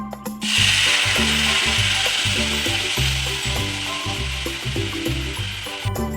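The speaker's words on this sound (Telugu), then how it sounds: "ఈ విధంగా వేయించుకుంటే సరిపోతుంది." Curry leaves fry in hot oil in a pan for curry leaf chutney, a loud continuous sizzle under a repeating mechanical whir with rhythmic pulses.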